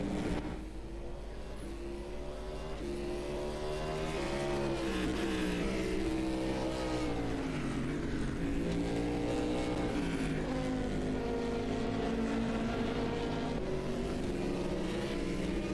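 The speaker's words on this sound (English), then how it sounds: "Great to see so many of these cars out on track." GT race cars run on the Matsusaka circuit during official practice of a 24-hour endurance series, engines droning continuously with rising and falling revs as they accelerate and pass at a steady distance.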